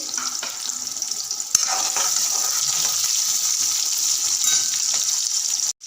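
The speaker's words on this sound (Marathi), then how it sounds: "कांदे काप करून घेतले ते टाकून घेतले त्याच्यात कांदा थोडासा लालसर होऊ देते" Sliced onions fry in a pan with cumin, giving a bright, continuous sizzle close by that jumps louder after a short clatter and holds steady, with a few light utensil taps.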